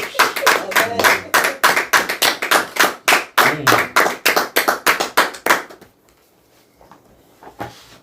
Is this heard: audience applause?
yes